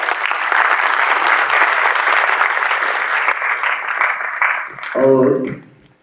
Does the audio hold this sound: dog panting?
no